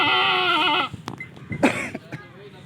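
Goats at a livestock sale: one loud, wavering bleat rings out close by, then fades into scattered thumps, shuffling and faint background chatter.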